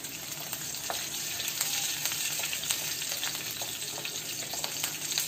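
Green chillies and curry leaves crackling in hot oil with mustard seeds and cumin: a steady, close frying sizzle with scattered sharp pops and spatters, no voices.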